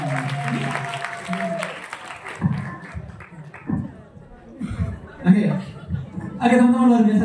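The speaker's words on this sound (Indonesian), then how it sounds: "berikan tepuk tangan yang meriah dong" An audience claps at a public speaking event, the applause mixed with voices, chuckles and laughter throughout.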